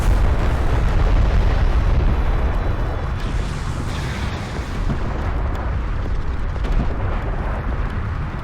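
Carrier missile barrage in Homeworld: Deserts of Kharak, a dense continuous roar of overlapping explosions and rumbling booms filling the whole stretch at steady, loud intensity.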